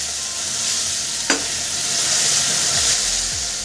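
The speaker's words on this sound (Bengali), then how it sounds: "এর মধ্যে আমি উষ্ণ গরম জল করে রেখেছিলাম এটা আমি সামান্য পরিমাণ দিয়ে দেবো" Warm water poured into a pan of sautéed katla fish belly bringing up a steady hiss and sizzle, with a sharp burst as the water hits, then soft stirring scrapes near the end.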